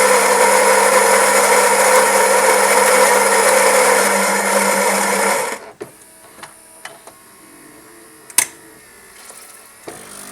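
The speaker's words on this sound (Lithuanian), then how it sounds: "2 kartus bus sumaltos kavos pupelės ir įbėgs kava." A Saeco Lirika Plus coffee machine grinds beans with a loud, steady mechanical whir for about five seconds, then stops abruptly, followed by quieter clicks and a sharp knock.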